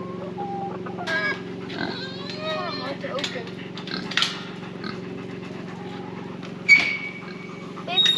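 Chickens and a rooster cluck and squawk nearby over a steady low hum, with scattered sharp calls and faint bird chatter throughout.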